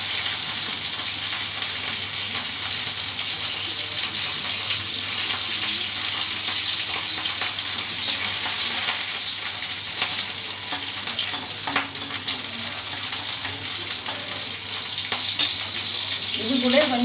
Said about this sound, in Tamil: இப்போ லேசாக எண்ணெய் ஊற்றிட்டு நாலு பச்சை மிளகாய் நம்ம வதக்கலாம்